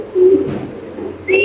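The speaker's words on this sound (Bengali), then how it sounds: "কবুতরের ডাকটা দেখা দিই। রয়্যাল টামলার কবুতর একটা নর কবুতর" A male royal tumbler pigeon coos close by, two low rolling coos separated by a short pause, with a brief higher chirp at the end.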